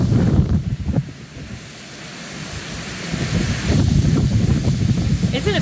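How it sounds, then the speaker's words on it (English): Strong gusting wind from Hurricane Ian in Sarasota roars across the microphone in loud, continuous rushes, with faint voices audible beneath the buffeting. "crazy how you could feel the wind blowing from one direction"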